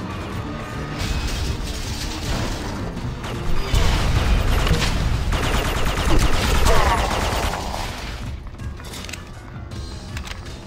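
Gunfire in the video game Red Faction 2, rattling bursts, metallic clanks and crashes building to a loud dense stretch midway before easing off, with game voices heard at points.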